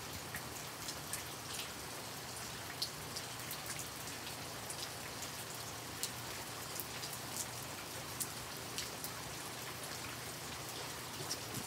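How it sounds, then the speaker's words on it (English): Steady light rain falls, with scattered drops tapping on a surface against a constant soft hiss. "It's raining, it's not pouring, but it's raining."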